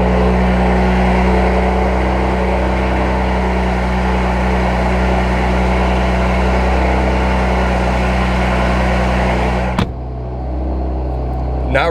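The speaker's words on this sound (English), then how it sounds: "Yeah, let's do a cold start." A BMW F80 M3 engine idles loud and steady after a cold start in a park, a dense low rumble that holds for about ten seconds before a sharp cut near the end, then a lower, quieter idle continues.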